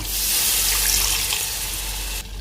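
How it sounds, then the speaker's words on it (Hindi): Water runs steadily into a pan of frying masala for chicken biryani, a continuous splashing hiss heard up close and alone, cutting off near the end. "थोड़ा पानी ऐड करूँगा, मसाले जल ना जाएं।"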